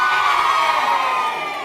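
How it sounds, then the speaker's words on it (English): An audience of young people at a school awards event cheers and whoops loudly, a dense, sustained burst of crowd noise with no individual voice standing out. "Stand up and give us a cheer!"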